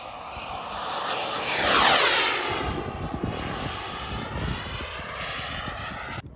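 Remote-controlled F-16 model jet flying at an RC airfield, a loud engine whoosh that swells as it passes close overhead, then fades into a steady distant drone.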